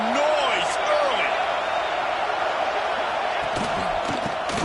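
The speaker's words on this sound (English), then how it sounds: "This crowd bringing the energy and noise early." Loud, dense roar of a stadium crowd at a USC versus MSU college football game, a steady wash of cheering and shouting that fills the whole stretch with only small swells.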